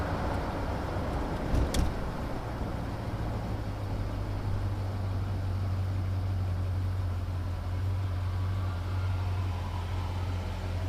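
A 1967 Mercury Monterey S-55 convertible with tuned dual exhaust gives a steady, low engine rumble while driving, continuous and fairly even throughout, with a brief knock near the start.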